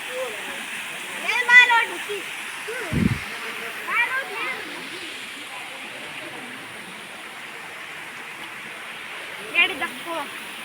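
Vastapur waterfall sends up a steady soft rushing hiss in the background, while people talk intermittently over it.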